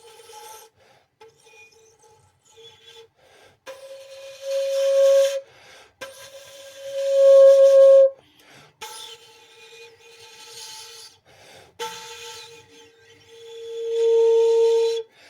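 Breathy tones from a 3D-printed shakuhachi flute sound in several held notes, airy and hissing, some swelling louder, with pauses between attempts.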